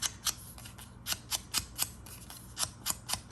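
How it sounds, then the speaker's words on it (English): Scissors snip through packing paper in a steady series of about a dozen crisp, close cuts, with short pauses between some strokes and no voices. "circles are hard to cut out, and so what I have found for me, what works is I don't move my scissors,"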